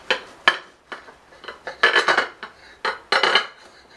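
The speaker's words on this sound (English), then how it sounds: "Now I'm just going to use my serrated knife here, and I'm going to cut a piece off" A serrated knife saws through a loaf of homemade cheese bread in a series of crisp, scraping strokes, loud and close with short pauses between them, and no voices.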